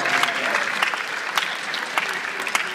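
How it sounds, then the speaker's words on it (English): An audience at a winter school jazz concert claps steadily for a few seconds, a dense, even patter of applause with a few sharper claps standing out. "Give him a round of applause."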